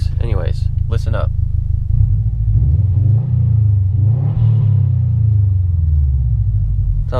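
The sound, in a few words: BMW e36 M3 engine heard from inside the car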